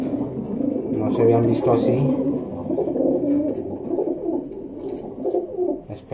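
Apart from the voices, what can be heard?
racing pigeons cooing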